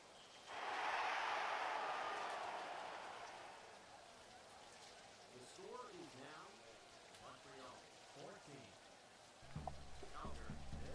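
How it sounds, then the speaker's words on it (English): Rain falls steadily across a football video game stadium, a broad hiss that swells early then settles, with voices talking over it in the later part. "It's raining."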